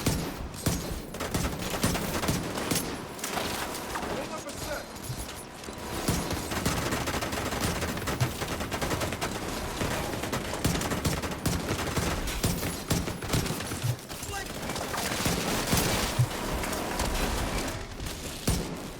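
Dense gunfire in The Division 2, a loud, unbroken fusillade of rapid automatic shots and bursts that rolls on for nearly twenty seconds without pause.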